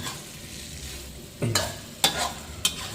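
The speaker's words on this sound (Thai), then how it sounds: "แล้วก็ใส่เส้นหมี่พอน้ำเดือดแล้วก็ใส่เส้นหมี่นะครับ แล้วก็ผัดไปเรื่อย ๆ จนกว่าน้ำจะแห้งครับ" Rice noodles are stir-fried Khorat style in a pan, giving a soft steady sizzle with three sharp scrape-and-clack strokes of a utensil against the pan.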